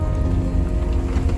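Heavy rain pours steadily during flooding in a region of Davao de Oro in the Philippines, a loud, dense, continuous patter with a deep rumble underneath and no talking.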